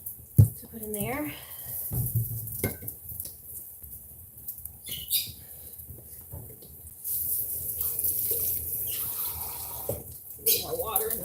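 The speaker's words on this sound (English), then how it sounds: "A little more water in the sauce though." Water is poured into a simmering tomato marinara sauce for eggplant parmesan, giving intermittent faint splashing and trickling with a few sharp clinks, under occasional talk.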